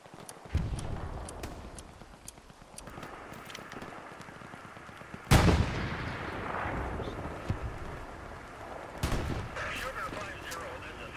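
Artillery fire in the World War II shooter Hell Let Loose booms in two heavy blasts with rumbling tails over steady battlefield crackle and distant shots, while players talk over it.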